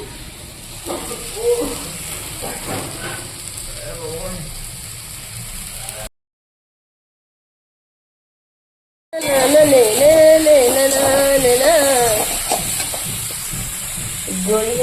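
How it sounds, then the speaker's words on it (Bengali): Potatoes for a Bengali fish curry with drumsticks hiss and sizzle in a frying pan as they are stirred and sautéed. Music plays over the frying for part of the time, with a stretch of silence in the middle. "এদিকে আলুটা কষিয়ে নিচ্ছি"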